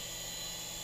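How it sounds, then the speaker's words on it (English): A Swann Micro Attack indoor RC helicopter flies nearby with a constant high-pitched electric whine and buzz from its small motor and rotors, sustained and steady through the short moment. "I'm filming my copter."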